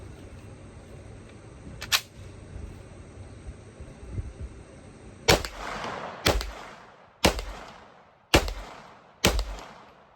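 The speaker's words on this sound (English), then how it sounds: "I'm gonna shoot 5 shots unsuppressed now." Five unsuppressed gunshots from a MAC5K fire outdoors one after another about a second apart, each a loud sharp crack with a short echoing tail, following a quieter isolated bang earlier over steady background noise.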